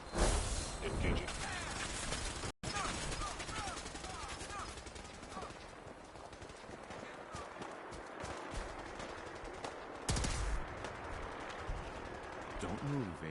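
Sustained gunfire from the video game Fallout 4, dense bursts of shots running almost without pause, loud and close, with a brief cut to silence early on and a heavier volley near the end.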